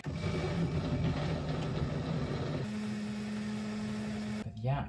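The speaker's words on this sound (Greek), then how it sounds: "Τοποθετούμε το blender. Ωραίος, βάζουμε και αυτό. Και χτυπάμε." A kitchen blender whirs steadily while blending oats and milk, a loud continuous motor drone that shifts to a steadier pitch partway through and then cuts off abruptly, with a voice briefly heard after it stops.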